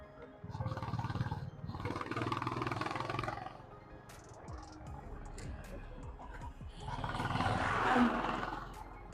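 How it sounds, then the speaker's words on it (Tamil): A motorcycle exhaust drones and roars in rising and falling bursts during a ride on a road near Poombarai, with the engine swelling loudly, easing off, then surging again under occasional talk. "எக்ஸாஸ்ட் சவுண்டு கேட்குதா நான் பேசுறப்ப?"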